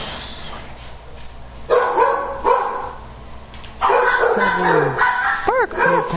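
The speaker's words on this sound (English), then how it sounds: "Puppies are going wild." Puppies bark and yip indoors in loud, excited bursts with whimpering rises, close by, over a steady background hum.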